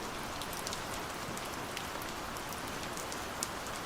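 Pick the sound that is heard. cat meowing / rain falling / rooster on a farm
rain falling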